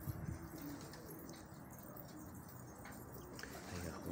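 Pigeons cooing softly at close range on a rooftop, low repeated coos over faint background ambience, with a few light chirps.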